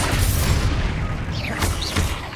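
A loud, rumbling blast from a Confringo spell in a Hogwarts video game rolls out as a sustained boom with crackling debris, followed by a couple of short whooshing magical sweeps.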